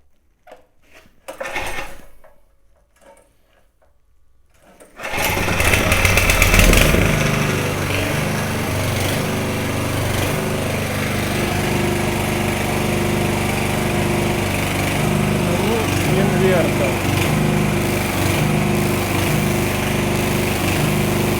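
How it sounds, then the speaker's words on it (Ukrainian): A homemade inverter generator built on a GAB-1-P/30 unit catches after a brief start attempt, then runs on as a steady, loud, close engine drone with no talk over it. "Стартуємо генератор і дивимося, що буде на цей раз."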